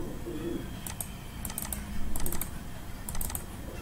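Short clusters of quick keystrokes on a computer keyboard, fairly close and moderately quiet, with steady room noise and a faint low hum underneath.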